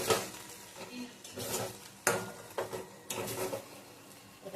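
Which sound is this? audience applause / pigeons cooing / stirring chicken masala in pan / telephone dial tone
stirring chicken masala in pan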